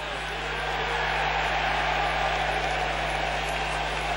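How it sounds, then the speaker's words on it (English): A rugby league crowd at a 1994 Hull versus Leeds match roars and applauds in a dense, even wash of noise that holds steady throughout, heard from a distance as one continuous mass. "Well, obviously the crowd love that."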